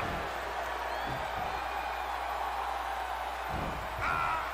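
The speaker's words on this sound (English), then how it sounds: "The sound of this crowd is deafening" A large video game wrestling crowd in WWE 2K22 roars and cheers in a dense, continuous wash of noise, with a few faint higher calls rising above it.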